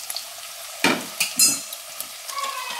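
Onion and chopped tomato sizzle in hot oil as a utensil scrapes and clinks against the pan in a few quick stirring strokes, close up and without speech.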